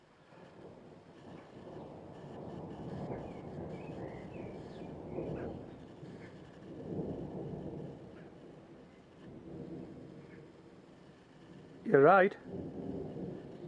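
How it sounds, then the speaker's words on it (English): Distant thunder rumbles low and long across a garden with rain approaching, rolling in broad swells under wind noise, with a brief sharp burst near the end and a voice speaking briefly. "it's thunder. Yeah, it's thunder."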